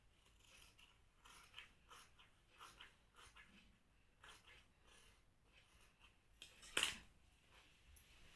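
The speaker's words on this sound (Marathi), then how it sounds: "आता आपण हा पाठीमागचा भाग कट करून घेऊ।" Scissors snip through blouse fabric while the back piece is cut, a series of soft, close, irregular cuts at a quiet level, with one sharper, louder snip near the end.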